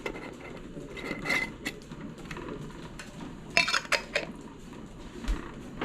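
Reusable lids being screwed tight onto glass canning jars of sweet pickled onions, a few faint clinks and scrapes of glass and metal in a quiet kitchen.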